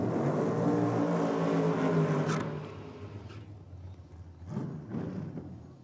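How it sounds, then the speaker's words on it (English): A drag racing T-bucket car with retro livery doing a burnout at a championship drag strip: a loud, sustained engine roar fills the first two seconds, then falls away to a lower rumble with a couple of brief surges. "ready for a burnout"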